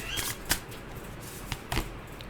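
Tarot cards are shuffled close by in quiet, soft riffling with a few sharp snaps and taps of the deck, no talk.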